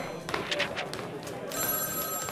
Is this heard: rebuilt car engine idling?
no